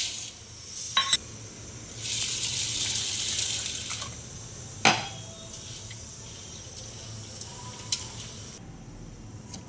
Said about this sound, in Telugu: ఇప్పుడు మనం కందిపప్పును వాష్ చేసుకుందాం.